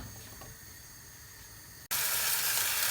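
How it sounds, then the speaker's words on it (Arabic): Meat cooks in a pressure cooker pot: a quiet background hum, then a sudden loud, steady hiss and sizzle that continues to the end. "انا درتو في الكوكوط باش يطيب دغيا."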